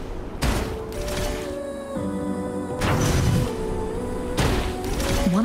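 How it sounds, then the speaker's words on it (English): Explosion of tacitite fulminate against a cliff during a Wuthering Waves quest, heard as repeated broad booming bursts over a sustained game soundscape with tonal music-like lines, no talk. "Perhaps we can create an opening in this disk with an explosion."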